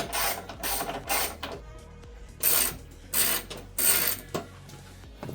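A ratchet wrench backs out 10 mm bumper bolts on a Nissan 300ZX, giving short bursts of rapid clicking separated by brief pauses, close and clear with no talk.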